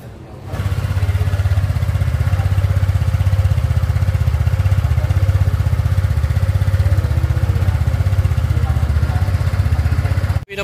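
A new 2024 Kymco Dink R150 scooter engine runs steadily at idle for about ten seconds, a loud close putter with a slight rattle, then cuts off abruptly.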